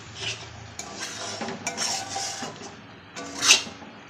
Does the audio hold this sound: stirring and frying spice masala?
yes